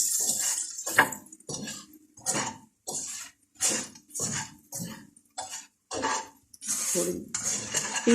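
A spoon scrapes and clatters in rhythmic bursts against a pan as green chillies with red chilli and salt fry over medium-low heat, with brief pauses between strokes and a few quiet words.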